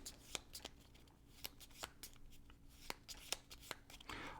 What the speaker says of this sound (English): I shouldn't have shuffled them together